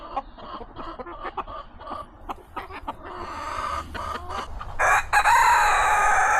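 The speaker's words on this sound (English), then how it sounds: "I gotta keep an eye on this big rooster" A rooster crows loudly nearby, its call rising and holding strongly toward the end, with scattered clucks and rustling before it.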